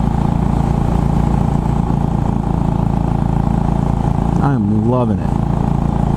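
Royal Enfield Bullet 500 motorcycle cruising on an open road at about 55 mph, a loud steady engine drone with wind rush throughout, briefly rising and falling near the end as someone talks over it.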